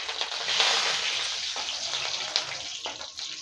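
Mustard seeds and curry leaves crackle and sizzle in hot oil while cooking raw banana fry, a loud, dense hiss with small pops and bursts, close up and without talking.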